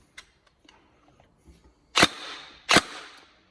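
Two sharp, loud shots from a Tokyo Marui 416D airsoft DMR with next-gen recoil system and 275mm barrel, spaced under a second apart, each ringing briefly before fading, preceded by faint handling clicks.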